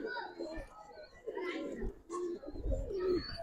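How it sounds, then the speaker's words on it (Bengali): Giribaz pigeons, an old breed, give soft repeated throaty coos nearby, rising and falling over a light background. "বহুত পুরান জাতের ভাই কবুতর"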